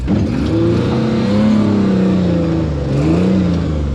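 A car with a broken axle shaft, now running as three-wheel drive, drives off the course after hard cornering. Its engine drones loud and close, the pitch slowly rising and falling.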